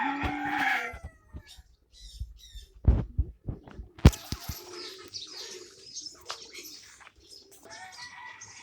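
Brahma chickens at a zoo give scattered clucks and a short crow, some close and loud and some softer, with short gaps of quiet between them.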